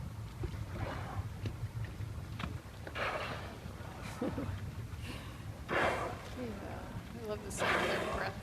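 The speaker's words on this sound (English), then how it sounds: "I love the sound of their breath." Orcas surface near a boat and exhale in several sharp, breathy whooshing blows spaced a couple of seconds apart, over wind noise and quiet people talking.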